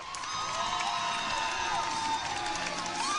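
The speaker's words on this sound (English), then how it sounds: "You got to hear the crowd noise" A packed high school crowd cheers and roars steadily after a section championship win, a dense wash of shouting and whooping that never lets up.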